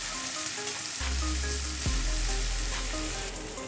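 Ginger, garlic and green chilli paste frying with onions in a pan for mutton biryani, a steady close sizzle with a louder surge after a second and a brief stirring scrape.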